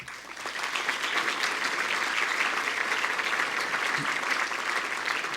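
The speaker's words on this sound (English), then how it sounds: "please join me in giving them a round of applause" A steady round of applause from an audience at an advocacy awards dinner, honoring volunteers, dense and even clapping that holds at a constant level throughout, with no voices rising above it.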